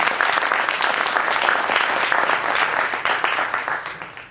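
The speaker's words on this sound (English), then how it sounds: "Another round of applause for Shane" A crowd applauds the speaker Shane after his user-group talk, loud, dense clapping that holds steady for several seconds, then thins and fades toward the end.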